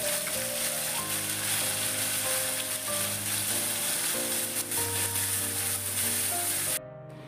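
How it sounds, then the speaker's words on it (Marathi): Onion paste fries with whole spices and bay leaf in a pan, giving a dense, continuous sizzle with a low hum underneath that cuts off abruptly near the end. "आता आपण याच्यामध्ये कांद्याची पेस्ट घालून देऊ।"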